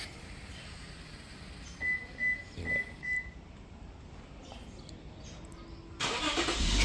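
A modified Toyota Mark X engine starts: a few short, distinct pulses and whirs of starter activity, then a steady, low engine noise rises toward the end, heard close with no voices.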